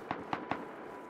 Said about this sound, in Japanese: 銃声がね、どっちからかわかんないんですよね。